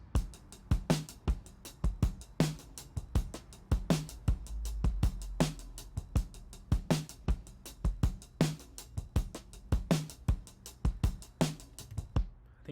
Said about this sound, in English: So kick, snare, and break all together sound like this.